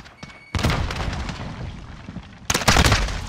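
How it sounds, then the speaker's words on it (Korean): A grenade blast in a military video game lands as a sudden loud boom, followed by a sustained rumble and a second heavy explosive burst near the end, with no talk. "수류탄!"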